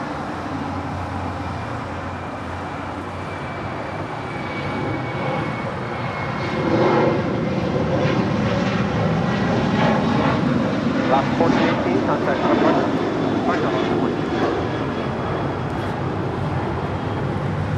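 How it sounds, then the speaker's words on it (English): Alaska Airlines Boeing 737-800 jet departing Los Angeles International Airport, a broad engine roar that builds and swells louder in the second half and then holds, with voices talking over it at times. "That is Alaska Airlines 1418 departing to Guadalajara on a 737-800."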